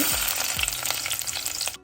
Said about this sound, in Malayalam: എണ്ണ നന്നായിട്ട് ചൂടായി വന്നിട്ടുണ്ട് ഇനി നമുക്ക് കടുക് ചേർത്ത് കൊടുക്കാം